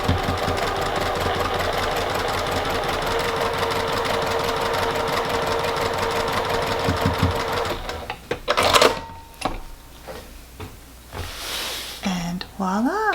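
A sewing machine stitches the second seam of a churn dash quilt block in a fast, steady run for about eight seconds, then stops. Scattered handling clatter and a brief voice follow.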